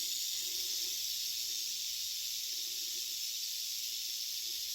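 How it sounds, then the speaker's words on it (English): A rattlesnake's steady, dry buzzing rattle holds without pause, loud and close, with a faint low rumble underneath, on the Appalachian Trail in Shenandoah. "Big old rattlesnake."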